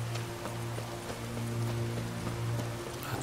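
Steady rain hisses in The Witcher 3: Hearts of Stone, with the soft, rhythmic clop of horse hooves running underneath at a moderate distance.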